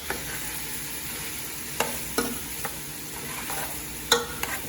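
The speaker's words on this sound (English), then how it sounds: "then I'm going to go in with the okra. Let the okra get a chance to cook up with that as well." Okra cooking with sautéed vegetables for callaloo in a pan, a constant soft sizzle broken by several sharp clacks and scrapes of stirring.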